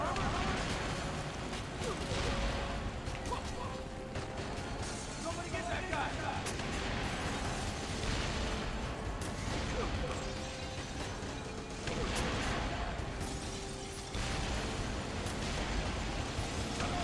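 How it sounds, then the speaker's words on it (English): Chaotic Wii U game combat with explosions going off everywhere, a dense, continuous roar of blasts and crashing debris running the whole time while a player talks over it. "Explosions everywhere."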